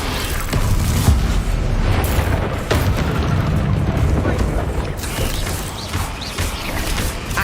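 A Bombarda blasting spell in the Hogwarts Legacy game sets off loud, continuous booming blasts with mechanical clatter, densely layered and close, speech faintly mixed underneath.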